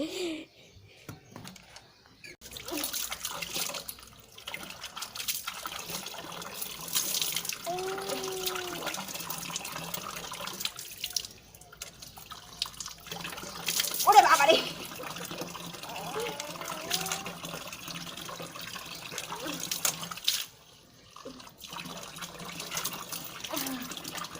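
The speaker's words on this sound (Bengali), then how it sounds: "আমার মাথায় জল ঢেলে দিচ্ছে" Water poured over a person's head during a bath at home, splashing and gushing in several uneven bursts close by, with voices and laughter around it.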